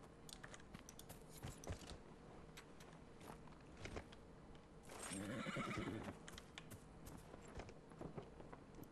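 A horse in the video game Dragon Age Inquisition, heard through a string of hoof clops and footsteps before a loud, drawn-out whinny near the middle, with game ambience around it.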